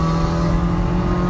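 A turbocharged, propane-fuelled Chevrolet Optra engine pulls hard under acceleration, giving a loud, steady, close-up drone with no pauses and no voices over it.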